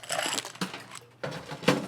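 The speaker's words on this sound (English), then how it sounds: "Add ice to that." Ice drops into a Collins glass holding a rum daiquiri, giving a few separate clattering bursts, close and fairly loud, spaced apart with short gaps between.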